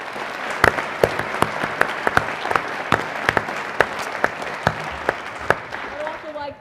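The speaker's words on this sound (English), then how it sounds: "So just a huge round of applause." Audience applause at a college of business celebration, a dense wash of clapping with sharper individual claps standing out, fairly close and steady, fading out at the end.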